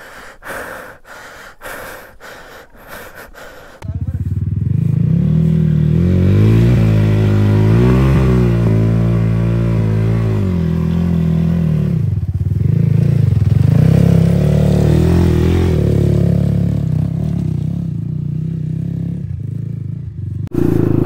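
A motorcycle is ridden with a loud, steady engine drone that rises and falls through revs for most of the stretch, after a few seconds of quieter clatter and breathing at the start.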